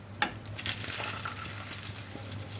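A heated pan holds a carefully assembled vegetable quesadilla with cheese, giving a steady soft sizzle with a few faint utensil clicks early on; no one speaks.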